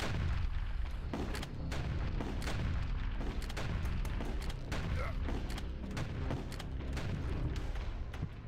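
Rocket explosions in the first-person shooter HROT: dense, heavy booms and blasts come in quick succession over a loud, continuous roar of combat, with some faint talk underneath.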